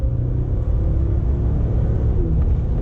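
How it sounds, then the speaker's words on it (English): A car engine drones with a steady low rumble as the manual gearbox downshifts from third to second, holding a constant loud hum close to the microphone. "I'll put it in manual mode. Okay, here we go. We are in third gear right now. So let me just shift down."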